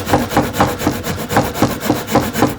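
A hand saw cuts wood for a TV unit, cutting inside a wall section; steady back-and-forth strokes, about four per second, loud and close with no talk.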